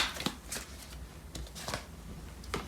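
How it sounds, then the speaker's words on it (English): Tarot cards are handled and pulled from a deck, giving a series of soft, quick papery flicks and slides at close range, spaced irregularly over a quiet background. "I'm going to pull out some cards to clarify some of these cards."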